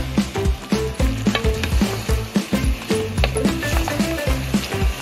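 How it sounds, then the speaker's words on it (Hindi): Mutton pieces fry in hot oil with onions inside a large cooking pot, giving a loud, steady sizzle broken by repeated scraping and stirring clatter throughout, with no one speaking. "देखिए हमने गोश्त को सारा अपने भगोने के अंदर ऐड कर दिया है।"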